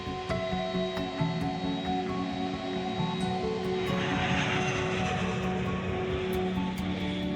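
A Boeing 747 airliner flies overhead with a steady, droning engine roar and sustained tonal hum that swells slightly midway, heard alone without voices.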